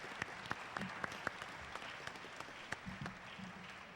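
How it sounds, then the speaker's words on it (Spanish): At a Star Wars fan convention, a faint bed of crowd applause runs continuously, punctuated by a few sharp, distinct claps from individuals nearer by. "Un aplauso también,"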